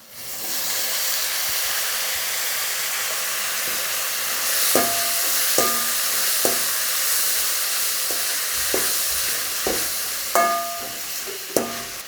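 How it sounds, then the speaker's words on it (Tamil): Garlic, onion and tomatoes sauté in a pan for a village-style crab curry, giving a steady, loud sizzling hiss throughout with occasional sharp clinks and scrapes of a spatula against the pan. "பூண்டு வெங்காயம் ரெண்டுமே நல்லா வதங்கட்டுமுங்க"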